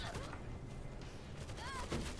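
Gunfire in the World War Z video game during a zombie attack on a stadium, a short burst of rapid shots under busy game noise, with a voice talking over it.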